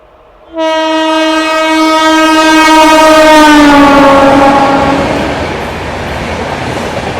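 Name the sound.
Humsafar Express train passing with horn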